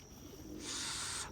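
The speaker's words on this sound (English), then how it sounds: "Bunch of corn-fed pigeons, race birds, you know." Corn-fed racing pigeons cooing outdoors, a faint low murmur of coos against steady background hiss, with a broadband rustle rising midway.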